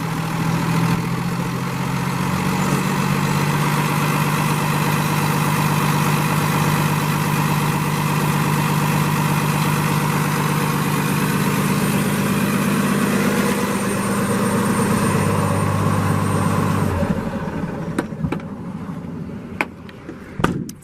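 A 2017 Freightliner Business Class M2 106 truck with a 300-horsepower Cummins ISL diesel and six-speed Allison automatic idles up close: a loud, steady low rumble for most of the time, then it quiets and a few clanks follow near the end.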